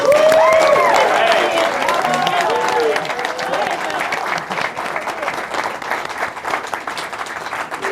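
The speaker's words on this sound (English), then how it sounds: "Please give them another round of applause" A crowd at a ward candidate forum gives a loud, sustained round of applause with some cheering, starting strong and easing slightly; voices sound over the clapping early on.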